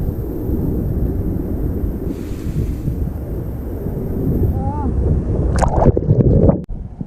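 Water pours steadily over rocks at an abandoned waterfall, a loud continuous rushing close to the microphone, with brief splashes and handling knocks near the end.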